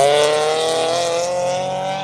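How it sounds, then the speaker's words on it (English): A race car at an event at Grissom AFB passes with a loud, sustained engine howl whose pitch sags slightly as it comes off the throttle, heard alone without voices. "when he does get off the throttle, it does literally sound like a wind-up toy winding down"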